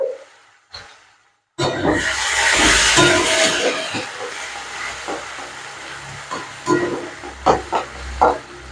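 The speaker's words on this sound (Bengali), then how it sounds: "পেঁয়াজটা আগে ভেজে নেব পেঁয়াজটা একটু লালচে করে ভেজে নিতে হবে" Sliced onions frying in hot oil for rui fish mouli, a sudden loud hiss as they go into the pan, settling into a steady sizzle with intermittent stirring clatter.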